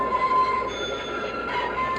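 A Lionel model train with hot box reefer cars slows to a stop, giving a steady rolling hum with a thin, high metallic whine running over it and no talking.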